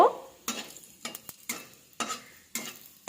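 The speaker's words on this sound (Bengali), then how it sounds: "একটু নেড়ে নেব।" Whole spices of panch phoron frying in a pan for a ripe hog plum chutney, stirred with quick, sharp scraping strokes about every half second over a light sizzle, close and alone.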